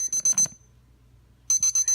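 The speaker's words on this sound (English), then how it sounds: "So this is beeping to alert me that my chicken is at 176." A ThermoFuture wireless meat thermometer sounds its cooking alert: two bursts of four sharp, high electronic beeps each, loud and close, separated by a quiet pause with faint room hum.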